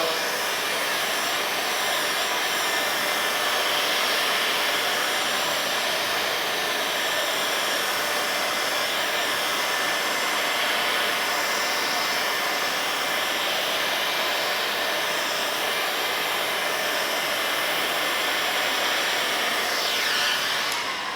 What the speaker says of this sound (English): So now let's do the dry shrink on the top. Again, heat gun over the shoulder.